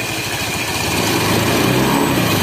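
Honda Beat FI scooter engine being revved lightly during a starter and charging check, a close, buzzy single-cylinder note that rises slightly in pitch partway through.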